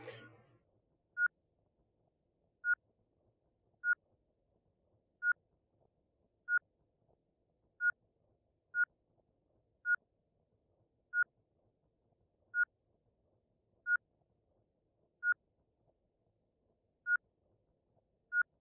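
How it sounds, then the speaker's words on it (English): Low-oxygen warning beeps from the space game Ostranauts: a steady series of about fourteen short, clear electronic tones sounding alone, spaced roughly a second apart and coming slightly closer together over time. "as the O2 stock dwindles, the beeps are getting more closely spaced"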